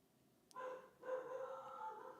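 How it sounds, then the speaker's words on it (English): A dog barks and whines in excited, drawn-out yelps during a windy storm, faint and slightly distant, with two bursts close together. "I think the wind's got my dog fired up."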